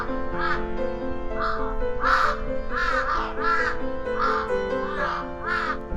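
Harsh, raspy raven caws repeat in a steady series of about ten calls, loud and close over a sustained low musical drone.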